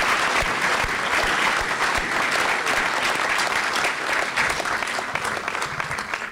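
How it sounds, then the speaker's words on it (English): Sustained, loud applause from a large crowd for graduates at a university commencement ceremony in Grenada, a dense steady roar of many hands clapping throughout with no talk over it. "Can we give a final rousing round of applause for the School of Graduate Studies"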